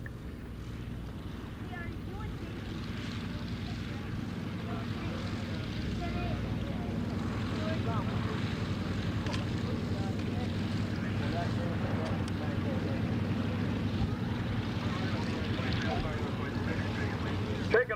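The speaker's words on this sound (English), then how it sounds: "Taking off right now is the Piedmont Airlines DC-3." A Piedmont Airlines DC-3 piston airliner takes off at a Fort Lauderdale air show, a low steady engine drone building gradually in loudness under wind and faint crowd noise.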